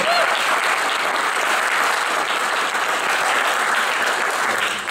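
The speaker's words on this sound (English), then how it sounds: "You can applaud that." A live audience applauds steadily at a community college talk, a dense, even wash of clapping that holds for about five seconds before easing off at the end.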